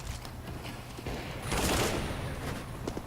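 A MAC-10 submachine gun firing in Counter-Strike: Global Offensive, giving a quick chatter of close shots over steady match ambience, with a brief louder swell in the middle.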